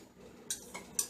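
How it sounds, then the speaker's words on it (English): A metal knife clinks against a dish twice while cinnamon-spiced apple filling is cut and stirred, sharp light taps about half a second apart over quiet background. "we can take our knife that we use to get it out and cut it up"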